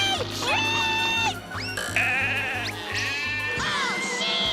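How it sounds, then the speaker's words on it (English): A cartoon flock of sheep bleats in a rapid chorus of wavering, overlapping calls over a steady rhythmic engine drone from a small plane, loud and close, with no talk. "Oh, sheep!"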